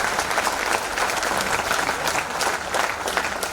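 An audience at a business training event in Ranchi gives loud, sustained applause for the management team, a dense continuous wash of clapping from start to finish.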